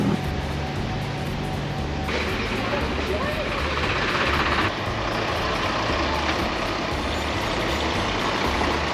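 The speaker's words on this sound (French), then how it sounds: "C'est la première fois qu'on prend un tracteur bus." A tractor-pulled bus rumbles along with a steady low engine drone, a brighter rattling wash joining partway through, close and continuous under faint background activity.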